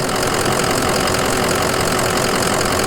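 A 2004 Ford Excursion with a 6.0L Powerstroke diesel idles steadily, a loud, continuous clattering rumble heard close up with no voices over it.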